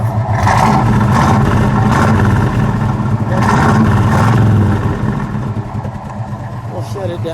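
A 1979 Pontiac Trans Am with the T/A 6.6 V8 revs hard, a loud, close, sustained engine roar that rises in surges and then eases back toward idle, with voices faintly underneath.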